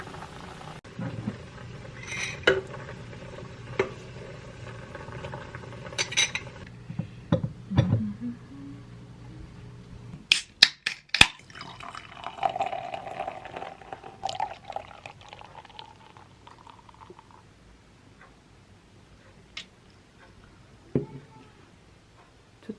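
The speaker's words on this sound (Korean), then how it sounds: "갑자기 오뎅탕 끓이고 있어요" Late-night cooking of Korean fish cake soup (odeng-tang) in a home kitchen: liquid pours and splashes, pots and utensils clank sharply now and then, with a low steady simmer between the bursts, fairly close and no talking.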